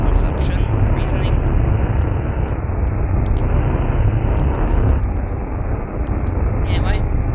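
Rocket engines at lift-off in Kerbal Space Program, a loud continuous roaring rumble that holds steady throughout, with brief clicks and a voice talking over it.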